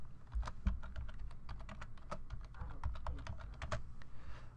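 Rapid, irregular keystrokes on a computer keyboard while a promotion name is edited in carwash management software, close and fairly steady for several seconds, with no talking.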